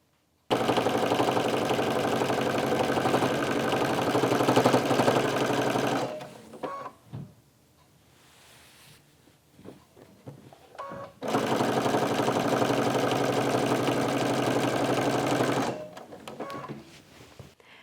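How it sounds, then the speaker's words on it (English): A sewing machine stitches a crossways cover strip onto a quilt-as-you-go block, running in two long steady bursts of rapid, even whirring, separated by a quieter pause with small handling clicks and adjustments. "So now back at the machine and sewing our crossways cover strip on just in the same way"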